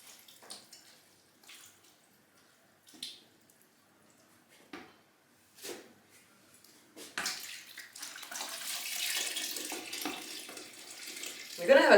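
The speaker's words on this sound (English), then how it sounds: "I just press it down, try to get as much liquid out as possible so we don't waste those lovely apple cider vinegar to be" Liquid from pressed apples for cider vinegar drains and splashes, starting after a few soft knocks and handling sounds, then running as a steady close trickling wash to the end.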